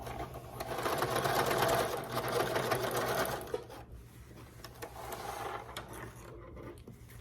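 A sewing machine fitted with twin needles stitches two rows at a long stitch length, its steady whirring hum fairly close for about three seconds, then continuing softer and more uneven before easing off.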